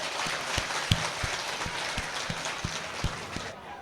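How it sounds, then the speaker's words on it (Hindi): Applause at a Hindu religious ceremony, the Vishnu Mahayagya festival, heard as a few distinct, evenly spaced claps over a thin background of scattered clapping, fairly close and moderate in volume. "जोरदार तालियां"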